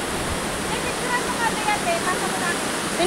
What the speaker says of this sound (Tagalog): Majestic, majestic, majestic waterfall